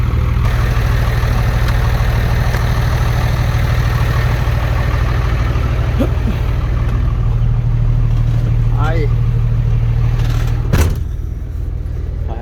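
A dump truck fitted with a new rear differential idles loudly, its low diesel rumble steady and close, then shifts slightly near the end as it pulls off; faint voices are heard in the background.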